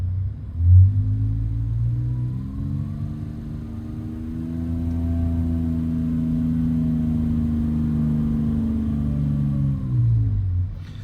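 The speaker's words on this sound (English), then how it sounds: "I'm just gonna go ahead and give it some throttle and start ramping up" Porsche 997.1 engine with a rich Bank 2 fault, revved under throttle: a low rumble climbs steadily to a sustained higher pitch, holds, then falls back, heard up close with no talking.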